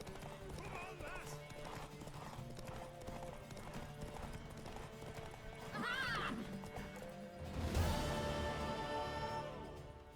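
Galloping horse hooves in the video game The Witcher 3: Wild Hunt pound in a fast rhythm while voices call out over them, followed by a louder rush of movement and a horse's whinny.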